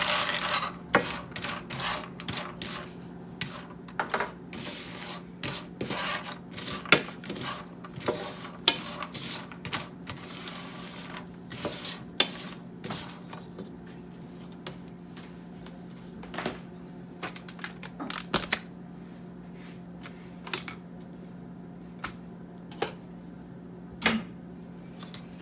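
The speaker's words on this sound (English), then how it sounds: "I'm going to let the butter melt all the way and kind of start toasting up the pecans" Pecans toasting in melted butter over medium heat in a pan, stirred throughout: soft scraping and rasping strokes with a quiet steady sizzle underneath, plus scattered light clicks and taps of the utensil against the pan.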